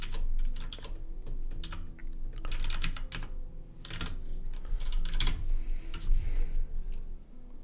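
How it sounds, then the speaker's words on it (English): Fast, clacky keystrokes on a mechanical keyboard fitted with O-rings, typed in uneven bursts and heard close up, with no voice. "It's a mechanical keyboard."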